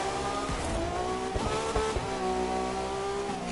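A race car slides through a turn in The Crew 2, its engine screaming steadily with tire squeal and a few sharp thumps, loud and continuous with no talk.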